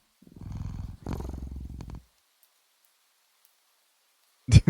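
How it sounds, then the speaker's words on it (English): Close, loud cat purring from an indie horror video game: two long rumbling purr cycles in the first two seconds, then silence and a brief sharp thump near the end. "Is that a cat noise?"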